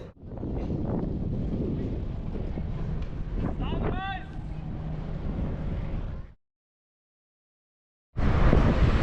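Heavy morning wind on Chios island rumbles and buffets the microphone for several seconds, with a brief high chirp in the middle, then cuts to silence before resuming.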